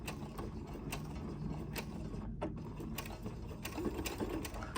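A sewing machine stitches and backstitches a fabric shaker plate pocket, running with a fast, steady mechanical whir and rhythmic needle ticks. The sound is close, with a brief pause midway before it resumes.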